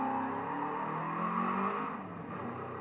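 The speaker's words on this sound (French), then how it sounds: "Déjà rien que le bruit de la 22B il me plaît." A Subaru Impreza 22B engine in a driving video game drones steadily at high revs, loud and close, without speech.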